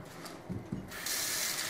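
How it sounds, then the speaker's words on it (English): Tap water running into a clean kitchen sink, a steady broadband rush that grows louder and fuller partway through, after a few faint clunks of handling near the start. "Fill my clean sink with water,"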